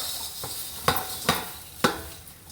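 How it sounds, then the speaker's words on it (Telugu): Moringa (drumstick) leaves fry in a pan, with soft frying and rustling under a few distinct scraping stirs of a spatula, about four sharp strokes spaced irregularly over the low background sizzle. "ఇలాగ బాగా ఫ్రై చేసుకొని పౌడర్ తయారు చేసుకోవచ్చు"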